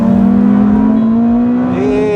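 A 1000-horsepower Ferrari SF90 Stradale accelerating hard, a loud steady drone whose pitch climbs smoothly, heard from inside the car.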